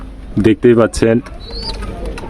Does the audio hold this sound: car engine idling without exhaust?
no